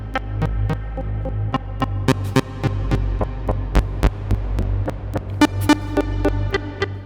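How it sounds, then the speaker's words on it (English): Repeated crisp clicks and transient pops from a QU-Bit Data Bender module with its edit function turned all the way down, ticking irregularly over a constant low throbbing hum, with no talking. "see how the clicks disappear?"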